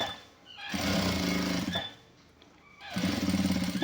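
A tailor's sewing machine stitches a shirt collar in two short bursts of fast, rattling needle strokes, separated by a brief pause, heard close up with no talking.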